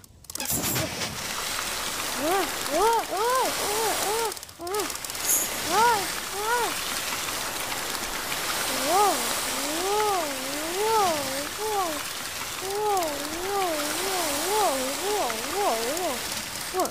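A steady, close hiss of water pours from a tap in the I Am Cat video game, running continuously for nearly the whole stretch while a wavering voice-like tone rises and falls over it.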